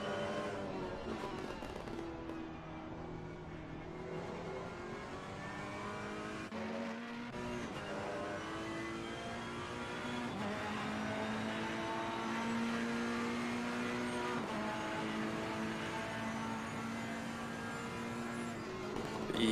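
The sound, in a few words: race car at Nurburgring in the video game Assetto Corsa Competizione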